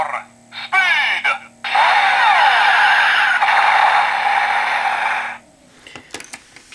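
A DX Drive Driver transformation toy belt from Kamen Rider Drive plays a loud electronic effect with revving and skidding sweeps that runs several seconds, after a few short bursts, then cuts off to quiet handling noise.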